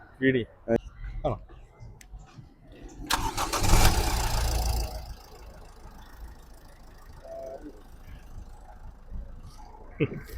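A Toyota Etios diesel car cranks and starts with a loud burst, then settles into a steady idle, and people talk briefly before and after it.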